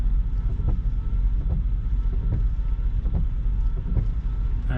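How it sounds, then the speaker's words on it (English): Strong storm wind in Nebraska buffets the microphone with a heavy, continuous low roar, gusting in steady pulses and dominating throughout, with rain likely mixed in and no voices. "It's windy as heck."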